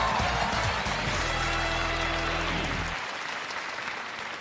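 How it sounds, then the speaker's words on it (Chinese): A studio audience on a Chinese TV job-show applauds in a dense, steady burst of clapping that carries on, with a low music tone underneath that stops partway and the clapping fading slightly toward the end. "掌声有请"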